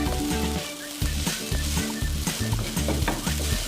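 Egg fried rice is stir-fried in a hot pan until the grains turn dry and separate, with steady sizzling and a regular, repeated scraping rhythm of stirring that sounds close and fairly loud throughout.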